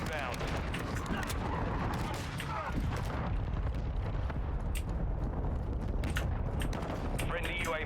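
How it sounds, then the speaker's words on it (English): Friendly mortar strike explosions in a military shooter video game, a continuous loud barrage of booms and gunfire-like blasts across the whole stretch, with voices mixed into the battle noise. "Friendly mortar strike inbound."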